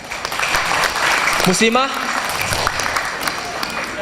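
Seminar audience clapping throughout, a steady moderate round of applause with a voice speaking briefly over it partway through.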